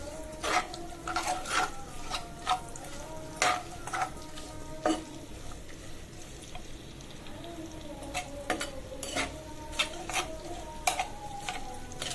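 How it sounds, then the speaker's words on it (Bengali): Chopped onion, garlic and ginger fry in hot oil for a chicken curry, with a soft steady sizzle broken by repeated sharp scrapes and clicks of a spatula stirring in the pan, close and moderately loud. "এবার কেটে রাখা পেঁয়াজ কুচি, রসুন কুচি আর আদা কুচি দিয়ে দিচ্ছি।"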